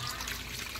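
Water draining out of a small washing machine, a faint brief trickle and dribble of liquid heard alone.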